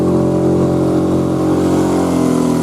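A boat outboard motor drones steadily at constant mid revs, never climbing to full throttle, a loud close tonal hum holding unchanged from start to finish with no talk.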